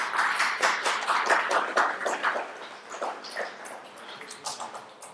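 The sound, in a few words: audience giving a round of applause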